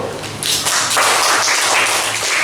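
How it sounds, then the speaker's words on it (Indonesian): A classroom of fourth-grade students claps for a group of teachers in an Indonesian lesson, with a dense, steady patter of hands filling the room at close range. "dari kelompok guru kita beri tepuk tangan dulu"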